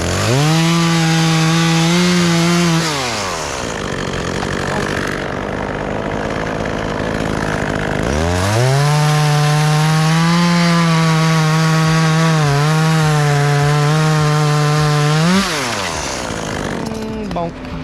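A chainsaw cutting branches on a massive white oak in Michigan: the loud, close engine revs up for a few seconds, drops away, then roars again in a longer sustained cut with a wavering pitch.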